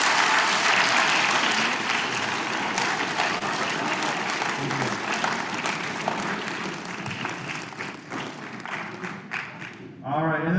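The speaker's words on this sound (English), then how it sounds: "Give him a round of applause." Loud audience applause in a meeting room, dense continuous clapping with some thumps, easing off before a voice starts speaking at the very end.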